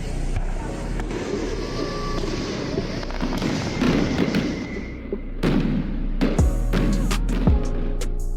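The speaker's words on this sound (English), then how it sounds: "As the group gathered to watch the fireworks at a park in California, her and Nature Boy got into an argument." Fireworks go off at a park in California, a dense continuous rumble of bursts and crackles with several sharper, louder cracks near the end, loud and sustained throughout.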